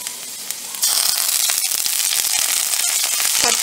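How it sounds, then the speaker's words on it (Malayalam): Garlic dropped into hot oil for a simple Kerala vegetarian lunch sizzles loudly and steadily, a quiet pan hiss jumping to a dense crackling fry about a second in and holding for several seconds, close up with no talk. "കുറച്ച് ഓയിൽ ഒഴിച്ചെടുക്കുക. ഇതിലേക്ക് നമുക്ക് വെളുത്തുള്ളി ഇട്ട് കൊടുക്കുക."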